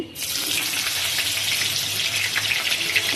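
Bay leaf, cumin and chopped ginger crackle as they fry in hot oil, a loud, steady sizzle close by that holds without a break from start to finish, with no voices.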